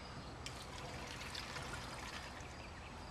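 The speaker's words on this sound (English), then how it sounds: "if we try to pour the water through the other direction" Water poured the reverse way into a HydraSleeve sampler check valve, a faint steady trickle and splash with a soft hiss throughout, no talk.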